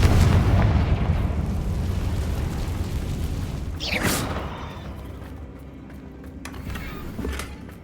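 A Confringo fire blast spell explodes in Hogwarts Legacy: a loud rumbling blast that fades, then a sharp whooshing burst at about four seconds and a smaller crack near the end, with no talking.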